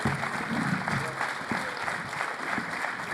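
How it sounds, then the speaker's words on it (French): An audience at a Breton agri-food conference applauds honoured guests, a continuous, even patter of many hands at moderate distance with little talk. "Vous pouvez vous lever, on va vous applaudir"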